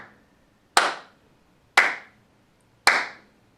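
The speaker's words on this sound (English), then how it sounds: "ask them to clap 4 times" Three sharp hand claps, evenly spaced about a second apart, crisp and close with short decays and quiet between them.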